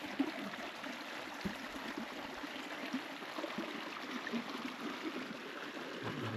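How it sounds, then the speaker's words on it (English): Babbling brook in a hidden creek on a farm, a faint, steady trickling and gurgling wash of water with no talk heard. "Babbling brook."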